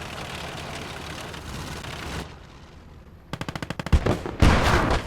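Gunfire in the World War II game Gates of Hell as rounds strike a lead Panzer, a dense rumble of battle noise, then a rapid burst of sharp shots and heavy impacts, loud and close.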